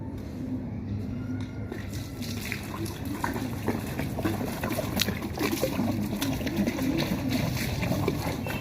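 Water being poured onto potted plants in a home garden, a continuous close trickle and splash of liquid over soil and leaves with small irregular drips, fairly steady in level and heard alone.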